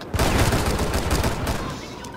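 A fast burst of video game gunfire, dense overlapping shots rattling loudly for about two seconds and then tailing off.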